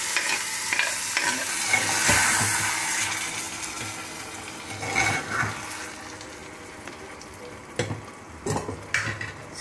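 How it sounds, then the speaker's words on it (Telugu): Cooked dal is tipped into a sizzling tempering, hissing and frying as a spoon stirs and scrapes the pan in bursts, with a few sharp metallic clinks, close up and without talk. "తాలింపు రెడీగా ఉంది, వేసేసుకుందాం పప్పు."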